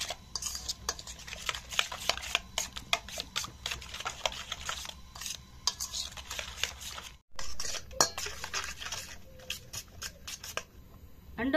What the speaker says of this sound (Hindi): तीन अंडे मैंने इसमें डाल दिए और अंडों को अच्छी तरह से मिक्स करेंगे।